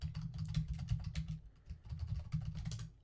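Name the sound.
typing on a computer keyboard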